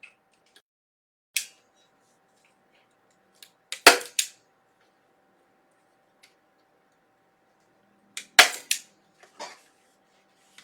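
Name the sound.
staple gun stapling light wire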